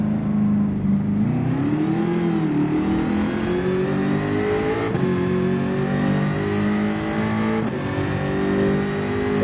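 A car engine in Gran Turismo 7 revs up and climbs in pitch, settles, then surges again twice, loud and close with no speech.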